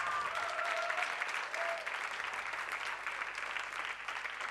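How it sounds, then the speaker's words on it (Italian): Contest audience at the 7 Live show applauding an arriving contestant, a steady wash of many hands clapping at a moderate distance, lasting several seconds with a faint tone and murmur underneath. "bel applauso per il nostro prossimo concorrente in gara"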